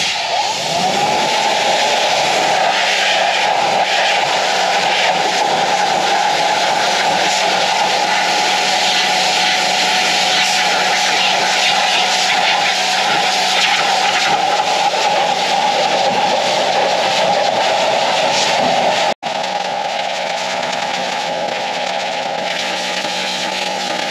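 An EGO Power+ HPW3200 electric pressure washer sprays a wheel, a loud steady hiss and motor drone held continuously, with one brief cut near the end.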